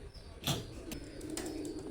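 Teddy pigeons, a running breed, coo softly at close range, with a brief flutter or rustle and faint chirps over a low steady background hum.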